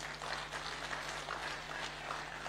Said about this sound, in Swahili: Makofi kwa mama.